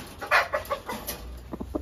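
A rooster gives a few short, soft clucks up close against quiet background noise.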